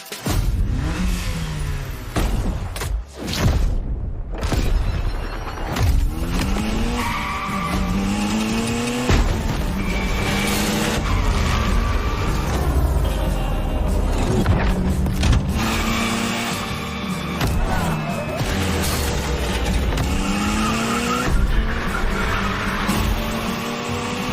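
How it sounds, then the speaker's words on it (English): A Mitsubishi Evo 9 in The Crew Motorfest video game is driven gymkhana style, the engine revving and changing pitch with long loud tire squeals and skids throughout, up close. "let me introduce Gymkhana Motorfest, featuring the Evo 9, starring you"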